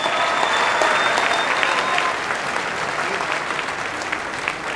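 Sustained comedy-show audience applause, dense and steady clapping throughout, with faint whistles or cheers mixed in near the start, gradually easing slightly toward the end.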